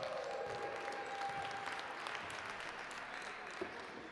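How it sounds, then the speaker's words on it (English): Crowd applause in a gym during a break at a boys' varsity basketball game, a faint, distant, even patter of many hands clapping that carries on steadily for several seconds. "Everybody give him a big round of applause."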